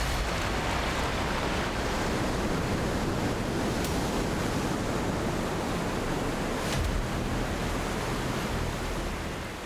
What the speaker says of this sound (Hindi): ग्लेशियर का विकराल मुंह सामने था, जिसमें से अलकनंदा नदी भारी शोर के साथ बह रही थी।